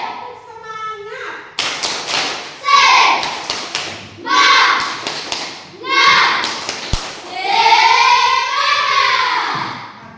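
A group of children perform a rhythmic spirit clap in a classroom, bursts of sharp hand claps in quick patterned sequences alternating with chanted, shouted voices, close and loud.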